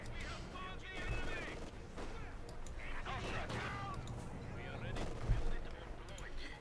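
A Maxim machine gun fires in Company of Heroes 2 amid a busy battle, with bursts of rattling gunfire and scattered shots and thuds under an ongoing commentator's voice.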